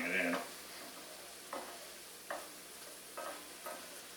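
Flour cooking in a pan with ground beef, a soft constant sizzle broken by a few brief scraping stirs at irregular intervals.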